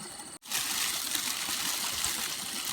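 Water being scooped and splashed by hand while catching crabs at night, a steady close splashing and gushing that runs without a break after a brief silent moment at the start.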